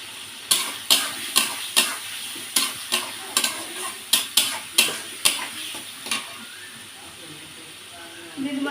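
Turmeric spice paste for a Bengali bata fish curry sizzling in a hot pan while a spatula scrapes and stirs it in a steady rhythm of about a dozen sharp strokes, then the frying hiss continues alone.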